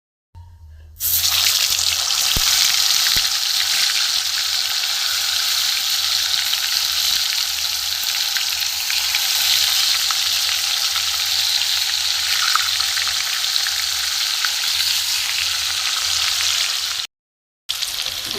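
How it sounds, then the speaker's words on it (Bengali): Chicken and potato pieces frying in a pan, a loud, dense, continuous sizzle that holds steady for a long stretch before cutting off briefly near the end, with no talking. "দ্বিতীয় ব্যাচে আবার এই কটা ভেজে নেব।"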